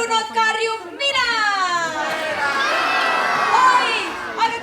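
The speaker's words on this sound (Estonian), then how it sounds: "Kes tahab näha Lottet ja Brunot karjub mina?" A crowd of children in the audience of a theatre show at the Lottemaa theme park shouts back together in a loud, sustained chorus of young voices, swelling and holding for several seconds.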